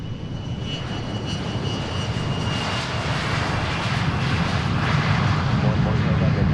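A private jet departs Boeing Field, its engine roar loud and broad, swelling gradually over several seconds as the aircraft powers away, with radio talk beneath.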